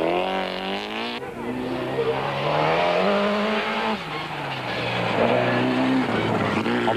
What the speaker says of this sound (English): Satvant Singh and Richard Leek currently hold 4th position in the 4-wheel drive Toyota Celica.